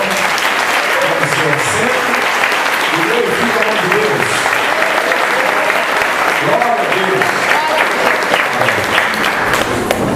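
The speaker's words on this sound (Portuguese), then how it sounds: "Aplauda mais uma vez em forma ao Senhor" A large congregation at a Brazilian evangelical praise congress applauds the Lord in a dense, sustained wash of clapping that stays loud and steady for about ten seconds, with voices and cheers mixed into the crowd.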